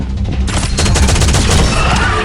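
Gunfire in a video game, a loud, dense burst of rapid shots fired continuously with no pauses, close and dominant, no talking over it.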